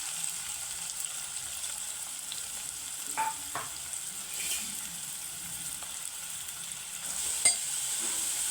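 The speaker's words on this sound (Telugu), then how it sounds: "కర్రీకి సరిపడా ఆయిల్, ఆనియన్స్ ముక్కలు అయితే వేసేసుకుందాం." Onion pieces fry in oil for a potato chicken curry, giving a soft, steady sizzle with a few faint clinks and stirs, with no voices.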